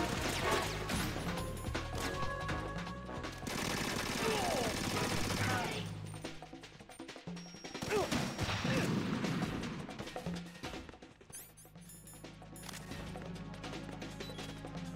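Gunfire in the video game Metal Gear Solid 2, with shotgun blasts among loud bursts of shooting, crashing impacts and clattering mechanisms, dense and chaotic throughout.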